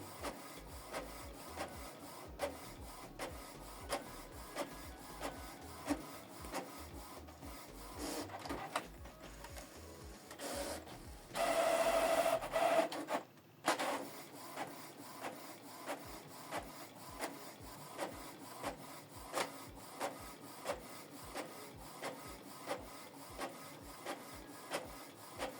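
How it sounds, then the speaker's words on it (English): A Canon Pixma TS5350i inkjet printer runs steadily with rhythmic mechanical clicks and whirring as the print head shuttles, a brief louder feed burst midway, then resumes. "So the document is printing."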